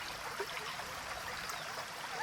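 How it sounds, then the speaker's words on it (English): A small garden water feature on a rooftop in the Tangle Tower video game, trickling and gurgling softly in a faint, steady stream with tiny bubbling splashes. "Ah, a little water feature."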